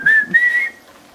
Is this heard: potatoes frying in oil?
no